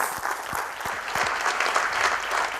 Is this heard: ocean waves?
no